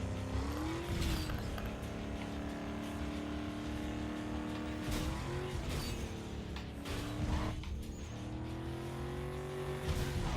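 A Lincoln Navigator races in Need for Speed Underground 2, its engine droning and rising in pitch through repeated shifts, broken by several sharp thuds and tire scrapes, loud and close throughout.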